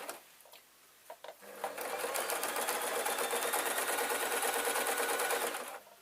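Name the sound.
sewing machine stitching kilt waistband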